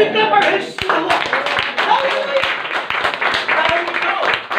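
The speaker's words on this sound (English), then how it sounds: "Can we clap our hands to the Lord?" Church congregation claps hands together, a lively run of distinct, fairly rhythmic claps mixed with voices and singing or speaking over the top throughout.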